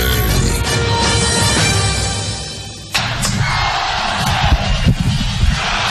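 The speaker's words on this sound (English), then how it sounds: "The crowd is ready to go." Stadium crowd noise at Allen E. Paulson Stadium on a Saturday night before a Georgia Southern versus Western Carolina college football game, a loud steady roar with yells and whoops, shifting to a broader burst of cheering midway.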